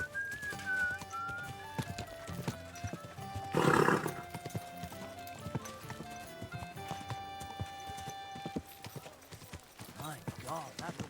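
Horse hooves clip-clop steadily alongside a whinny in Kingdom Come: Deliverance 2, with game music and a man's speech layered over the scene.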